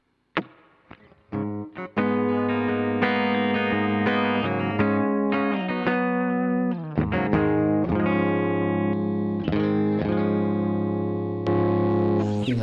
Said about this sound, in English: This turns on and off the onboard reverb on the amp, so I turn it on.